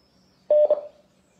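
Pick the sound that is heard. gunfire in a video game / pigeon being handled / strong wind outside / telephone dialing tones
telephone dialing tones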